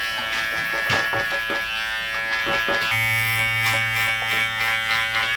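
Electric hair clippers fitted with a number 1 guard buzz steadily and close up, a constant motor hum that deepens partway through as they cut into hair.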